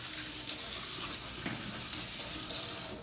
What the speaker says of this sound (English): I'm then gonna rinse down my sink to make sure that it's clean.